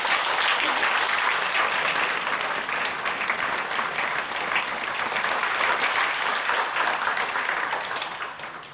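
A congregation at a Korean Presbyterian church commemorative service bursts into sustained, dense applause that fills the room evenly from start to finish, tapering slightly at the end.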